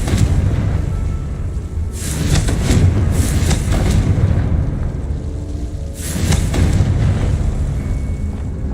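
Confringo and Bombarda spell explosions in Hogwarts Legacy, loud booming blasts with bright crackling bursts, three distinct hits over a continuous rumbling roar, close and without talk.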